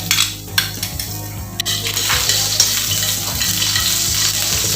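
Garlic sautés in cooking oil in a pan with a bright, continuous sizzle, accompanied by clinks and scrapes of a utensil against the pan early on.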